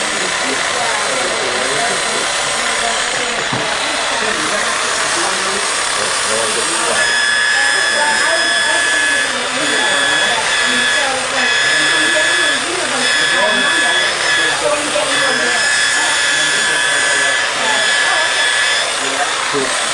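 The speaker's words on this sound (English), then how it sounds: "I'm trying to buff it out without going through the, plastic at all." A buffer polishes a scratch out of the paint on a MINI during detailing at Meguiar's, running as a steady whirring drone with a whine that rises in the middle, while people talk over it.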